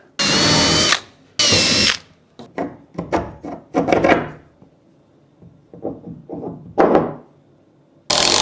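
Loud bursts of a power drill whirring, two long runs at the start, then short stop-start pulses with clunks and rubbing between, ending on another burst.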